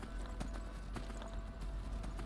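Horse hooves clip-clop in the Skyrim video game as an overloaded rider heads toward Falkreath, a steady rhythmic walking beat of sharp knocks over a faint, constant ambient bed.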